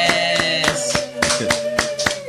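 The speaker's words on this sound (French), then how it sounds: "Est-ce qu'on peut acclamer pour notre sœur Jana?" A church congregation at a thanksgiving service claps for a sister named Jana, with quick, fairly loud, uneven handclaps over a sustained musical tone.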